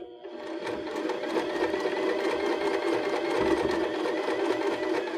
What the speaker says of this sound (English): And just keep going, sewing straight across that join.